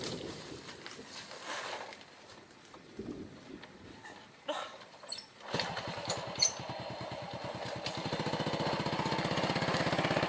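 A motorcycle engine idles and then revs up nearby, its steady rumble building louder toward the end, with brief background voices and clatter before it starts.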